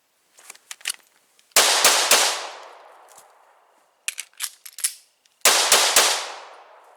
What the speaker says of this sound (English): I let off my first shot a little bit early from the draw